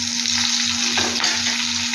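Drumstick leaves go into a pan of frying egg stir-fry, giving a steady close sizzle with a brief burst of stirring and a constant tonal hum behind it.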